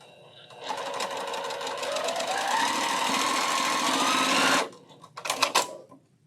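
A serviced sewing machine stitching quilt blocks runs in a loud, steady whir for about four seconds, then stops, followed by a short burst of stitching.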